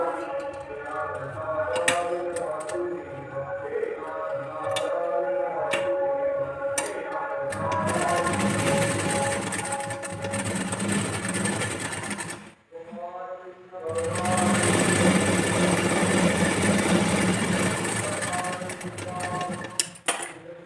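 A sewing machine stitches a blouse sleeve in two long runs of rapid, steady mechanical clatter separated by a brief pause, with someone talking softly before and during the stitching.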